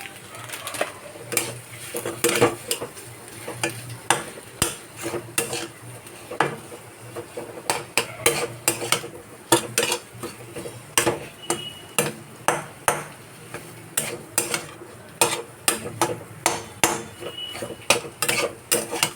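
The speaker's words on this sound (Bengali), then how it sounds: "পেঁয়াজ দিয়ে আলু একটু ভেজে নিলাম" Potatoes and onion being stirred in a pan for aloo chop, with repeated sharp clinks and scrapes of a metal spoon against the pan in an uneven rhythm, close by, with little sizzle evident.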